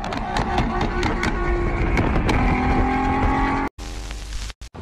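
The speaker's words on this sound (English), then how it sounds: "This guy really wanted to show off his exhaust." A car engine revs hard and loud with a raspy exhaust note and tire squeal, rising in pitch before cutting off abruptly.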